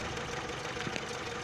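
An old engine runs steadily after an ignition coil improvement, a continuous mid-pitched mechanical drone with faint knocking ticks, heard close with no speech.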